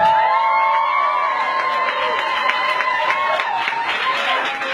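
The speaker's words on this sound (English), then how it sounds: "Everyone, please give a big round of applause to Zulfiqar Ali Bhutto." An audience at an art evening for a queer community gathering applauds and cheers for the artist, with whoops and raised voices over clapping and a tonal hum running underneath.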